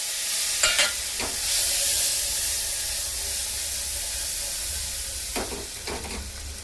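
Tomato goes into spices frying in a pan, setting off a steady bright sizzle and hiss up close, with a few brief stirring scrapes near the start and the end.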